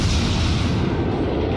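Naval gunfire in the World of Warships video game, a Tier IV American Phoenix cruiser's guns rumbling in a sustained, loud, dense roar of booms and explosions with no pause.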